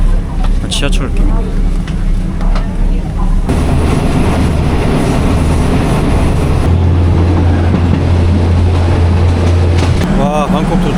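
A passenger train running from Ayutthaya to Bangkok, Thailand, with a subway-like feel, rumbles steadily from inside the carriage, with a constant loud roar and a low hum that shifts in pitch partway through.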